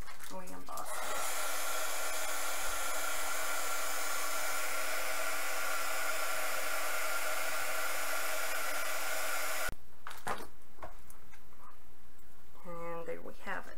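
A heat gun embosses a craft card with a steady, loud blowing roar lasting about nine seconds, then cuts off sharply, with brief speech before and after it.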